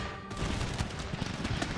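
Musket volley fired by Mamluk troops in the game Empire: Total War, a dense crackling fusillade of overlapping shots rolling for a couple of seconds, moderately loud with no talk.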